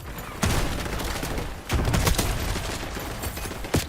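Rapid gunfire from a first-person shooter video game, dense bursts of automatic fire and shots crackling loudly and continuously with sharp peaks near the end.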